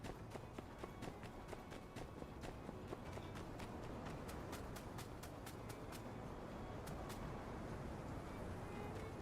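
A horse's hooves clip-clop steadily in a video game, a quick, even run of hoofbeats over a constant low background rumble, with no talk.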